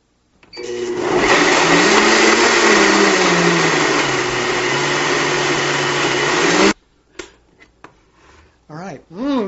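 A blender whirs loudly and steadily for several seconds while making a smoothie, its motor pitch wavering slightly, then cuts off abruptly, followed by brief handling clatter and a person talking.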